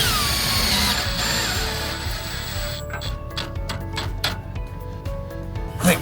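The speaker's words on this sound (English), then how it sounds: "fasten the foot block with the screw that they give you" A screw is driven into an aluminum railing foot block, heard as a steady motorized whine followed by a rapid run of clicking, ratcheting taps as it tightens, close up and fairly loud.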